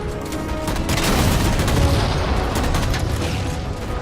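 Heavy gunfire in Halo 4 as jammers atop a ship are shot down amid Covenant enemies, a loud continuous barrage of shots and booms with no pause.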